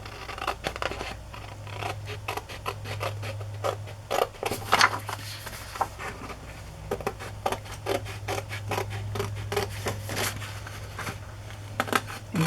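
Scissors snipping out a rectangle of embroidered fabric, a close sequence of quick, crisp cuts and scratchy rustles repeating in an uneven rhythm over a low steady hum.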